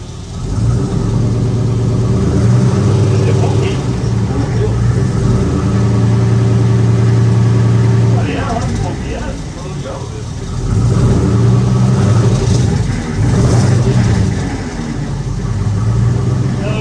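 An LS-powered Ford wagon doing burnouts holds a loud, steady engine drone with a brief dip midway before climbing again, while people talk nearby.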